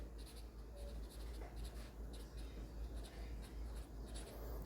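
Chalk or marker writing out a mathematical equation on a board, with soft repeated strokes and taps heard faintly through a steady background hum.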